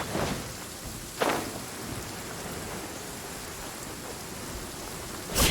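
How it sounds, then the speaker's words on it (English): Steady rain hisses through a Genshin Impact thunderstorm, with brief bright thunder cracks near the start, around one second in and again at the very end, all under a constant wash of falling rain. "Compared to the storms I've encountered out at sea, this is really quite tame."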